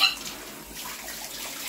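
Water poured over a child during a bath, a steady close splashing rush with no break, slightly louder at the start and end.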